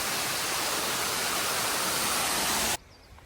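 Rushing water of the Jones Waterfall on a river beside the Appalachian Trail, a loud, steady broadband roar filling the air close by, cutting off abruptly near the end to near silence.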